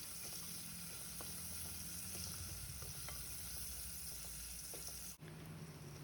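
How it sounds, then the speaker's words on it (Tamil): Garlic and small onions sizzle steadily in a hot pan for agathi keerai kuzhambu, with occasional scraping stirs and a brief clatter near the end, no voices. "இப்போ நம்ம நல்லா வதக்கி விடலாம்"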